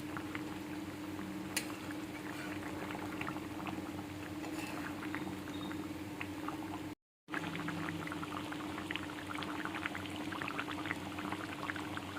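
A pot of thin chicken curry with plenty of water bubbles on the stove, a soft steady simmer with faint pops and gurgles, close but quiet and continuous, broken only by a brief gap.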